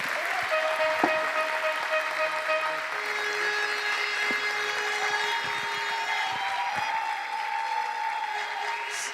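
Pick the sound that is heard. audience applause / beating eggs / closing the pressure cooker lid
audience applause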